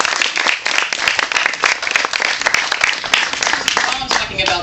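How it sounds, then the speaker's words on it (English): Audience applause at a road opening ceremony, a dense, steady patter of many hands clapping at close range, with a voice faintly audible beneath it. "And a round of applause for their efforts."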